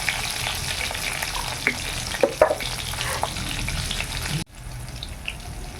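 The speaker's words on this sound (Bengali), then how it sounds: "কাঁচা লঙ্কা আর কালো জিরাটা ভালো করে ভাজা হয়ে গেছে" Green chillies and black cumin fry in hot oil with a continuous crackling sizzle, broken by a few sharp stirring knocks, then the sizzle drops suddenly to a quieter hiss.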